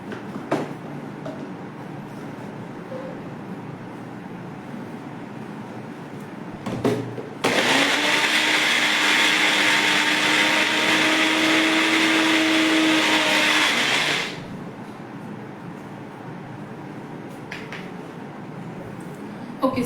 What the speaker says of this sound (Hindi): सो यहाँ पे मैंने मैंगो ले लिया है. मैं इसे ब्लेंड कर रही हूँ.